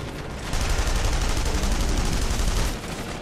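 Sustained gunfire in The Saboteur video game, a dense, continuous burst of shots that starts abruptly and rolls on loud and close for a few seconds before easing off slightly.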